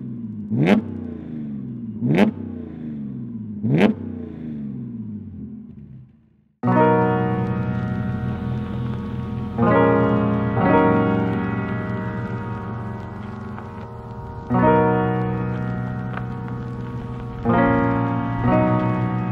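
Widebody Audi S4 with 493 bhp and hypershift: three sharp throttle blips at idle, then a loud, sustained acceleration with rising engine pitch through several gear changes, close by and without talk.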